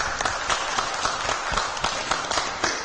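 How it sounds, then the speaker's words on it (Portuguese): A studio audience applauds a commentator on an afternoon television show, a dense, continuous wash of clapping at moderate loudness that holds steady throughout. "vamos aplaudir o nosso comentarista"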